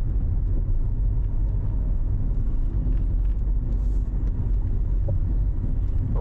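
A motorized tricycle's engine rumbles continuously and close by on a road near Paoay, a dense, low, unbroken roar mixed with some wind buffeting.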